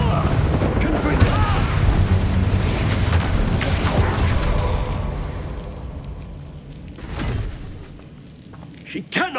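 A Confringo blasting curse going off in Hogwarts Legacy: heavy booms and crackling blasts in a loud battle mix that thins out toward the end, with voices mixed in.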